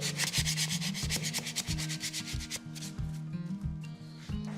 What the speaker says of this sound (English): Once wood filler dry, we start to sand it down.